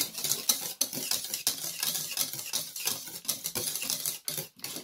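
Cake batter being stirred by hand after oil goes in for a simple loaf cake, a steady run of close wet scraping and tapping strokes against the bowl with no talk.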